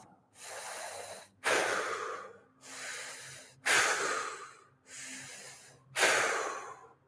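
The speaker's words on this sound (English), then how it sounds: "3 breaths in and out the mouth" Three slow, deliberate breaths, each drawn in and pushed out through the mouth, close and airy, with the loud exhales alternating with softer inhales during a fascial maneuvers exercise session.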